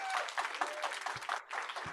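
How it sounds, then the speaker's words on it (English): An audience applauds after a presentation, a short burst of dense clapping that holds steady and fades briefly near the end. "give a round of applause for an excellent presentation"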